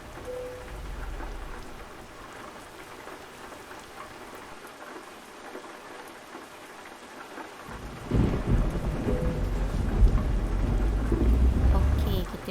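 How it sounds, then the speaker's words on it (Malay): Rain and thunder in the truck-driving game Euro Truck Simulator 2 set a steady hiss of rainfall, then a heavy rumble of thunder and denser downpour swells loudly over the final seconds. "Tapi hujan tak berhenti lagi."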